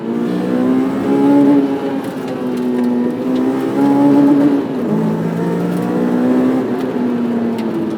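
A 2006 Honda S2000 (AP2) engine revs hard and accelerates on a track, pitch rising and dipping through gear changes, loud and continuous with no voices.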